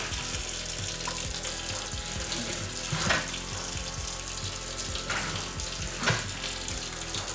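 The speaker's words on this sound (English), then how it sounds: "Pushing this soap and hot water through your garbage disposal" Soap and hot water running from a tap into a clogged kitchen sink and down the garbage disposal, a steady close rush of flowing water with a few louder splashes.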